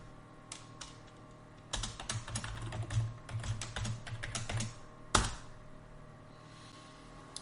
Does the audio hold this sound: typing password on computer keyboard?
yes